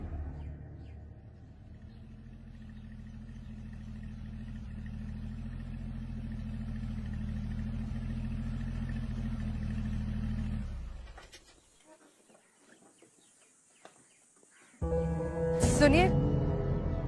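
A car engine rumbles steadily for about ten seconds, then fades away as the vehicle pulls off, leaving near silence before an abrupt loud burst of sound.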